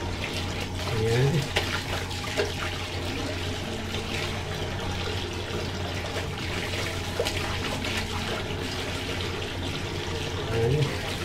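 Water runs steadily as laundry is rinsed by hand in a basin, a continuous splashing trickle close by with a few louder sloshes, while a voice speaks faintly now and then.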